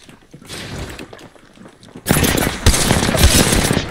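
Gunfire in Apex Legends from a Flatline rifle, starting quietly with distant clatter, then erupting into loud, sustained close-range automatic fire with rattling mechanical bursts.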